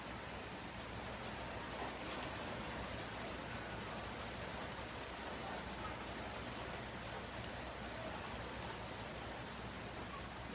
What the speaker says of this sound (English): We're out of the rain.